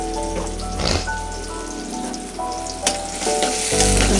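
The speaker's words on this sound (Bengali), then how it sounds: "পেঁয়াজটা ভালোভাবে তেলের উপরে ভেজে" Onions and green chillies frying in hot oil, a steady close sizzle with crackling bursts throughout, no voices.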